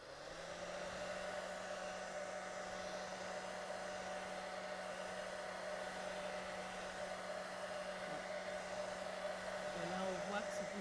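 A hair dryer blows continuously over a painting to dry it, giving a steady whirring motor hum with airy hiss that holds even throughout, slightly shifting near the end.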